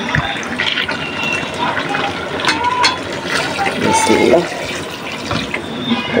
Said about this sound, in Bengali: ঠান্ডা পানি দিয়ে দিলাম, আন্দাজ মতো দিছি যতটুকু লাগবে।